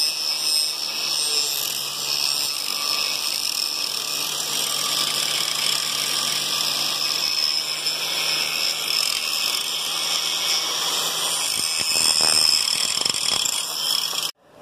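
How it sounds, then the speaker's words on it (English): Power grinder grinding down the tips of steel rods for garage door spring tensioner tools, a loud, steady high-pitched whine with harsh grinding texture that runs continuously before cutting off abruptly at the end. "So we're going to grind down the tip of it to a 1/2 inch to make a nice snug fit so we can do this safely."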